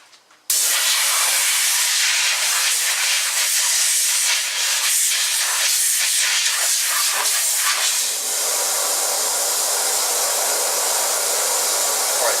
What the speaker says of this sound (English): blowing it out with air and getting all that loose crap out of there